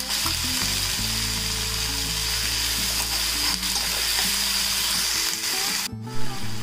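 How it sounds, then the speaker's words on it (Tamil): Tomatoes and sprouted green gram sauté in a pan with a steady, close sizzle that runs unbroken throughout, a faint low drone beneath it and a brief clatter near the end. "நல்லா வதக்கிப்போம்."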